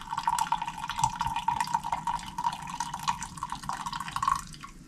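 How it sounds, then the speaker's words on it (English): Coffee poured into a cup, a close liquid trickle and splash that runs steadily for several seconds before tapering off. "Can I have some coffee, please? Oh, it pours today."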